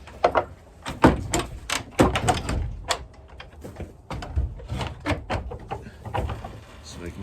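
A screen door on a chicken coop for meat chickens creaks and bangs shut several times in quick clattering knocks, close up, with someone talking between the sounds.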